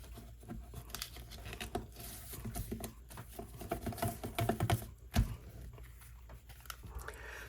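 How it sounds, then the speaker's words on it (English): Textured paper is torn and folded up close, with dense crinkling rips and papery rustles in irregular bursts, fairly quiet and unaccompanied by talk. "I just kind of tear some, fold them back."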